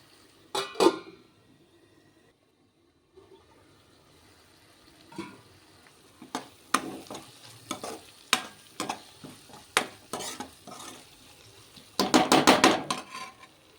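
Curry masala paste for an ivy gourd and egg curry fries in a pan. Sparse spatula scrapes and clinks against the metal sound over a quiet sizzle, with a brief silent gap early on and a denser burst of stirring near the end.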